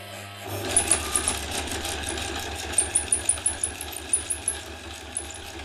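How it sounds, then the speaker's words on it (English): A sewing machine stitches lycra onto a crochet bikini top, starting after a brief quiet moment and running in close, steady bursts of rapid mechanical clatter with sharp clicks throughout. "place your bikini like that in front of the corners, and then start stitching, start sewing."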